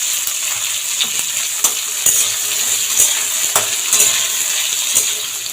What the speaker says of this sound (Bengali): আর একটু নুন দিয়ে এটাকে একটু ভালো করে লাল লাল করে ভেজে নেব